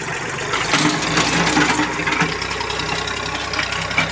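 A Kubota L2000 small tractor runs in fifth gear, its engine putting along with a steady, knocking mid-range chug and a rattling, vibrating undertone.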